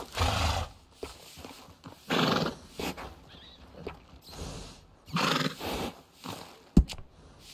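A horse in the Western video game Red Dead Redemption 2 neighs, with a sharp, loud whinny and snorting heard amid short bursts of ambient sound and hoof clops, no talk.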